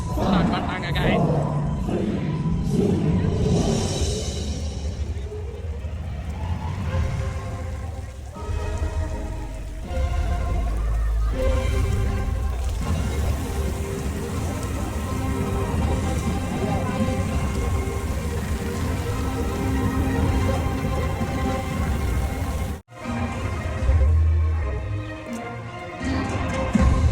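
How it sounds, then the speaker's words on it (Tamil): Steady rain pours over an outdoor theme park at Jollywood Studios & Adventures in Bangalore, a dense continuous hiss of drops on surfaces close by, with a person talking over it. "உங்களுக்காக மழையில் நனைஞ்சிட்டு கவர் பண்ணிட்டு இருக்கேன்."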